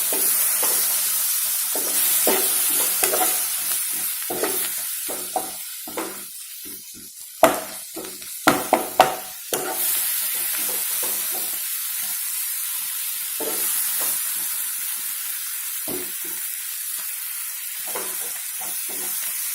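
Curry leaves and two tomatoes drop into hot oil for a chicken gravy, setting off a steady loud sizzle and frying hiss with a cluster of sharp spits and pops partway through, then a calmer continuous fry with no talk.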